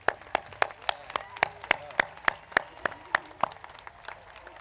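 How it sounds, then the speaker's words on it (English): Hand claps at a school convocation ceremony come as a steady, evenly spaced series of crisp, sharp slaps, a sparse round of applause heard fairly close in a reverberant hall. "Let's give them a round of applause, shall we?"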